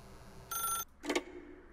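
A telephone in The Stanley Parable video game rings in two short bursts, a bright trilling ring followed after a brief pause by a second shorter ring, near and clear.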